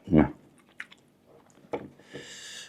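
Close, wet chewing of spicy duck offal curry, with a soft squishy bite at the start, then scattered smaller mouth sounds and faint background noise.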